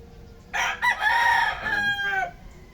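A single rooster crows once among backyard fowl, a loud, close cock-a-doodle-doo lasting under two seconds over quiet background.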